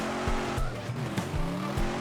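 Monster truck tires squeal and skid in the Turbo Dismount video game over a loud, rumbling engine, with several sharp thuds and bumps breaking through the steady racing noise.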